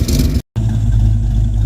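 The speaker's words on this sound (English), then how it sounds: "those exhaust leaks up front have gotten worse" Mustang engine running with exhaust leaks at the front H-pipe, heard up close as a loud rough rumble that cuts out for a split second and then resumes steadily.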